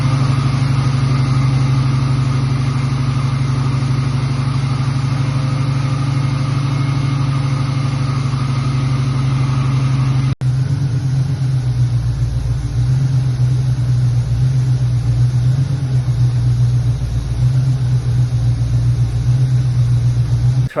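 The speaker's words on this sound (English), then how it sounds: "It really sounds great, especially with the MagnaFlow exhaust." A Turbo Trans Am engine fitted with a MagnaFlow exhaust runs steadily for about 20 seconds, a loud, continuous low rumble like an idle. Its tone shifts slightly partway through, with a brief break near the midpoint.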